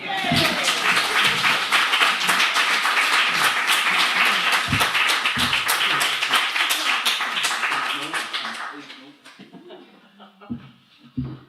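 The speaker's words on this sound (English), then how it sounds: "Round of applause one more time." A live audience claps and cheers loudly and steadily after a spoken word poetry set, the dense applause holding for about nine seconds before thinning out to a few scattered claps and murmurs.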